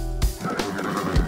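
Pegasus, the winged horse in a French animated cartoon, lets out a short, loud whinny close up, a brief neigh with a breathy snort at the end.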